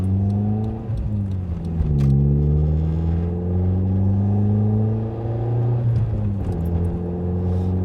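A 1994 Nissan Pulsar GTI-R turbo engine drives around town at light throttle, a loud steady engine drone that rises and falls through gear changes and is heard from inside the car with no talk.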